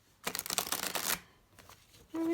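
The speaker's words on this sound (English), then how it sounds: "It's hard to shuffle." Slippery new tarot cards riffled in a quick, crisp burst of overlapping flicks, then a brief softer shuffle, close and fairly quiet, ending in a low hum.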